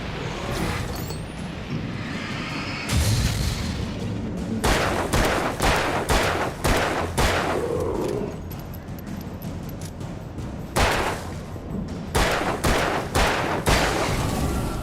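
Repeated gunfire from the video game Alan Wake, with sharp shots ringing out in irregular clusters and several fast bursts over a continuous rumbling background, loud and close throughout.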